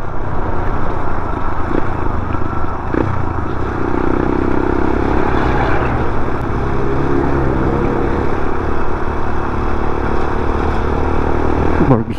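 A Suzuki Burgman maxi-scooter's engine drones continuously as it passes behind, under loud, steady wind rush, holding a constant roar with no talking.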